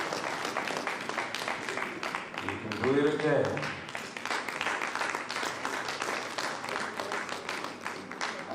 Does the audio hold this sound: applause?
yes